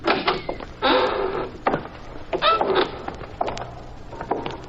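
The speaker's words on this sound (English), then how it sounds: "The side door is open. Push it and go on in." Warehouse side door pushed open as a radio drama effect, a creaking drag and scrape followed by several knocks and rattles of the door, close and clear, with no voices.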